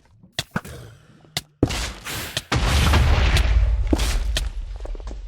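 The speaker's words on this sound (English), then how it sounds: "And here comes the explosion." A loud explosion in Minecraft, a Wither being spawned during a survival fight with lava nearby, bursts after several sharp thuds and rolls into a sustained, heavy low rumble that holds for a few seconds.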